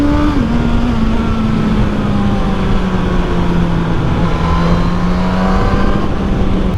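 A 2022 Suzuki GSX-S1000 naked bike fitted with a Yoshimura R11 exhaust holds a loud, steady engine drone close by, its pitch dipping slightly then settling into a sustained even tone with no talk.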